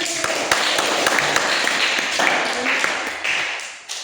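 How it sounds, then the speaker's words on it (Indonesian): Classroom applause right after a student group finishes its presentation, a dense steady patter of many hands clapping, fairly loud and continuous throughout. "Oke, tepuk tangan."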